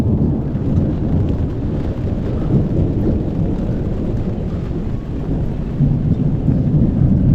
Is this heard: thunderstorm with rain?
yes